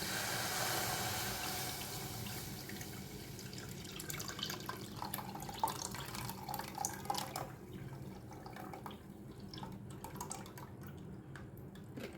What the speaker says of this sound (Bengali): এবার দিয়ে দিব তরল দুধ